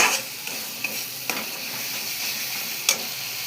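Spice masala stir-fried in oil for Bengali aloo dum: a thin continuous sizzle with a few light spatula taps scattered through, one sharper clack near the end, close and quiet, nobody speaking.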